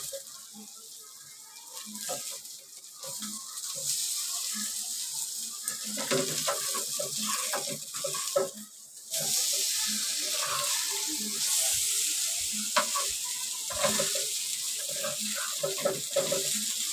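Halwa fish pieces fry and are turned in a pan, with a steady bright sizzle and intermittent scraping and clinking from the utensil, close by.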